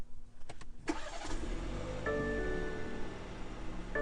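BMW G20 330i started remotely: a starter crank catches into a rising engine roar that settles into a steady idle, close and fairly loud, with no talk.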